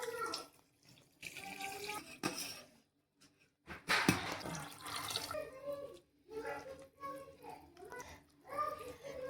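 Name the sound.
water poured into rava dosa batter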